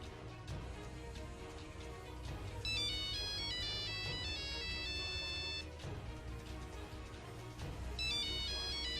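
A mobile phone ringtone plays in a Tamil film scene: a loud, repeating melodic chime pattern that keeps cycling, with a low rumbling background underneath and no one speaking.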